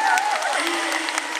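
Audience clapping fills the clip, a sustained burst of applause from a crowd at a seniors' community festival in Yeosu, South Korea, while a voice talks over it.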